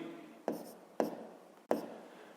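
A pen scratches across paper while working a sixth-grade maths exercise: three quick, distinct strokes, each a sharp scrape that fades out, close by and fairly quiet.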